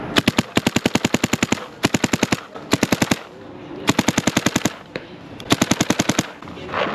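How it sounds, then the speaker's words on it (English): Dye paintball marker fitted with a UL-I barrel firing rapid bursts of sharp, evenly spaced shots, loud and close, with short gaps between each string of fire. "I'm gonna go ahead and chrono real quick so you guys can see what I'm shooting at."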